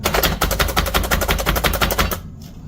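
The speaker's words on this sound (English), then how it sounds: "do a little regular cutting, and then slap chopping" Rapid, rhythmic chopping clacks from a plunger-style slap chopper chopping garlic, about a dozen quick hits in a row before stopping abruptly.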